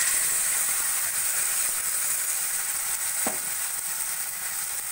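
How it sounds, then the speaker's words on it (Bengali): A coriander leaf, poppy seed, green chilli and tomato paste sizzles and fries steadily in a pan for a fish curry, a close, continuous hiss with no one speaking. "পেস্ট দিয়েও আমি ভালো করে মশলাটা কষিয়ে নেব"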